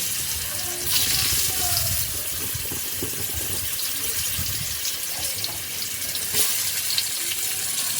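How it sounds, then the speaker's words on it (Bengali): Diced potatoes drop into hot oil with tempered spices, sizzling for a koi fish and cauliflower curry; a steady, close broadband frying hiss runs throughout with small crackles. "এবার আমি তেলের মধ্যে দিয়ে দিচ্ছি ডুমো ডুমো করে কেটে রাখা আলু"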